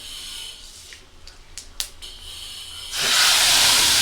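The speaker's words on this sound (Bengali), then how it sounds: "তেল আমার গরম হয়ে গেছে একটা তেজপাতা সরিষা দেব" Bay leaf and mustard seeds drop into hot oil in a kadai and break into a loud, steady hiss of sizzling that starts abruptly and holds, after a quieter stretch with a few small clicks.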